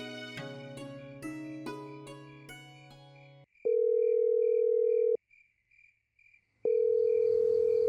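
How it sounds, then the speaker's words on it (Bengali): A telephone call's tone comes through clearly: after a brief chiming electronic jingle, a steady sustained beep holds for about a second and a half, pauses, then starts again, loud and alone with no voices. "শফিক ভাই এখনই কথা কও না একটা ফোন দাও"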